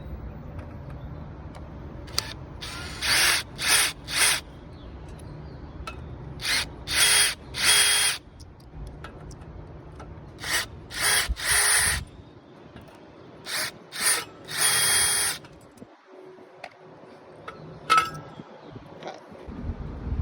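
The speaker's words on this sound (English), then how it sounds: "So you just want to take your drill with the right bit." A power drill whirs in short repeated bursts while drilling through a net post, several quick pulses in groups with pauses between, close and loud against a quiet background.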